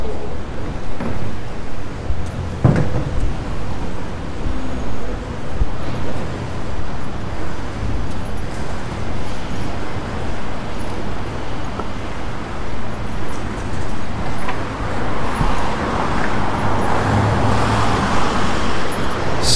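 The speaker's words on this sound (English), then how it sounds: "All the delivery trucks are still here, replenishing the shop fronts." Steady urban traffic rumbles through Pitt Street Mall where delivery trucks are parked replenishing shop fronts, a continuous mid-level roadway drone with a few sharper knocks and a broader hiss building toward the end.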